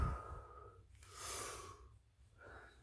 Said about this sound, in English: That is me breathing.